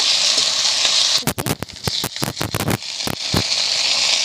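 Garlic and ginger paste frying in a pan while a spatula stirs it, with a steady close sizzle broken by a burst of scraping and rattling strokes in the middle.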